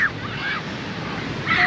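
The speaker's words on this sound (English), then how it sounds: "The waves, look at the waves." Ocean waves breaking at Half Moon Bay beach produce a steady wash of surf mixed with wind noise on the microphone, and a faint voice comes through at the edges.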